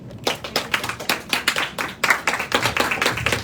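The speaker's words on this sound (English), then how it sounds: "huge round of applause for Mr. Arnold Vegafria" Audience applause at the Mister and Miss Supranational Philippines 2022 pageant: distinct, sharp claps in a steady, slightly uneven rhythm, close and clear, with no voices over them.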